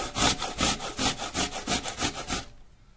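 Apples grated on a coarse grater straight into a container, about a dozen quick, even rasping strokes, close and loud, then stopping abruptly; no talking.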